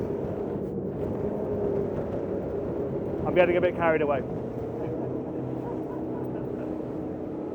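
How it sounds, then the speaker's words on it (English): Fairline F33 hardtop day boat with V8 engines, a steady low engine rumble underneath someone talking, with a brief rise in roar midway. "V8s all the way. And their noise."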